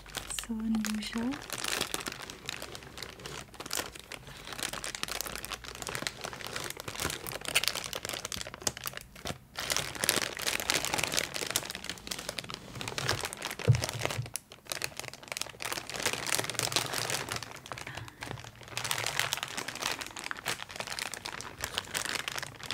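Plastic bag crinkles and rustles almost continuously while an anime figure is unboxed, near and fairly steady, with brief pauses and a short voice at the start.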